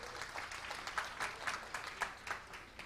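Faint applause from an audience at an ASEA company event, a soft, steady wash of clapping with slightly rhythmic pulses, heard from a distance.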